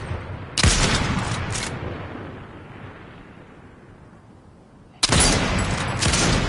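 Gunfire in the Fortnite video game: two loud bursts of rapid shots, one near the start and another near the end, separated by a few seconds of decaying rumble.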